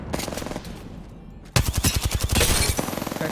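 Rapid automatic gunfire in the video game Apex Legends, aimed at the character Bloodhound: a short burst, a brief pause, then a loud, fast, steady stream of shots close by, with no talking over it.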